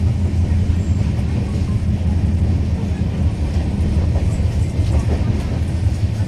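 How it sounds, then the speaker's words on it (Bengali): The Barbil Jan Shatabdi express rumbles along the tracks out of Howrah, heard from inside a non-AC chair car as a continuous, loud, low roar with faint rhythmic rattling. "ট্রেন এগিয়ে চলছে"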